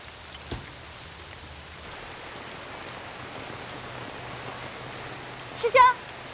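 Heavy rain falls in a soft, constant hiss that fills the background at low level, and a brief voice cuts in near the end.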